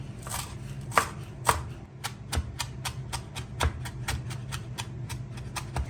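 A knife chops coriander leaves on a cutting board in a fast, steady rhythm of crisp close taps, with a few heavier knocks early on.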